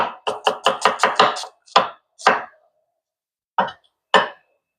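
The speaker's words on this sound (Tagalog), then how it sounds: "So, hiwain natin sibuyas." Onions are sliced on a cutting board for butter chicken: a quick run of seven sharp knife chops, then a few slower, separate cuts with pauses between them, close and clear.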